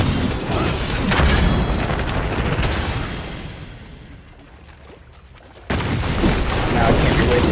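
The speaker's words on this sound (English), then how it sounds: "I died by a damn death explosion." A loud explosion booms in a video game, with a dense rumbling blast and crackling debris that fade down toward near silence before another burst of heavy noise returns.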